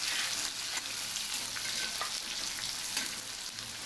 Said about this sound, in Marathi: त्याच्यात आपण कांदा टाकायचा. कांदा भाजून घ्यायचा